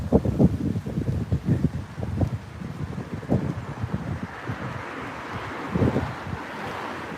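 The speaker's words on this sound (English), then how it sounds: "Getting windy, windy, windy." Gusty wind buffets the microphone at a Fort Lauderdale beach around sunrise, rumbling in uneven bursts over a faint wash of surf, with no talking.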